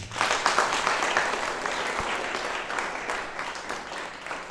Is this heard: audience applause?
yes